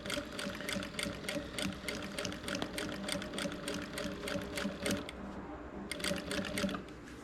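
A sewing machine runs steadily, stitching a double row of topstitching along the edge of a patchwork rug. The needle chatters in a fast, even rhythm with a short pause near the end before it picks up again.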